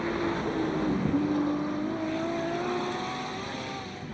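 A race car at the Jaguar Simola Hillclimb accelerates hard off the line, its engine note climbing steadily through the gears, loud and close, with no talk over it.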